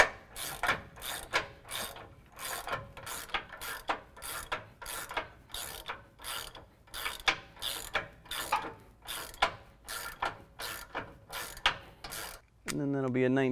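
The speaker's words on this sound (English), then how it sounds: "We're going to tighten down our bolts from our frame to our bracket first." A ratchet with a 24mm socket tightens factory frame-to-bracket bolts on a Road Armor Stealth front bumper for a 2017 Dodge Ram, giving a close, loud run of rhythmic clicking strokes, about twenty in steady succession.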